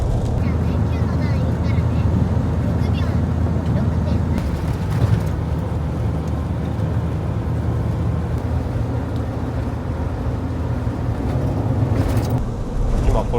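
A camper van cruises along a highway in sleety winter weather, a steady low road and engine rumble heard from inside the cabin, with wind noise throughout and people talking over it.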